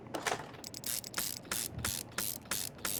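Mechanical ratcheting and clicking while the upper intake plenum is fitted to a V6 engine in the video game Car Mechanic Simulator 2021, several short bursts of clicks repeating in a steady rhythm, close and moderately loud with no talk.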